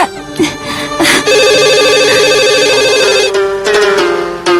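Telephone ringing indoors in a family home in an Indonesian drama film, a loud electronic warbling ringtone sounding steadily for a couple of seconds, with voices and other household sounds before and after it.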